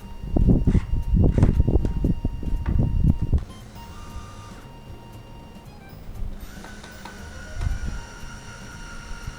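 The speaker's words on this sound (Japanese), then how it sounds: "電動工具でガシガシとネジを回していきます。" Power tool driving screws into wood panels while assembling a DIY work desk indoors, a loud rough burst of whirring and grinding in the first few seconds, then quieter intermittent buzzing and clicks.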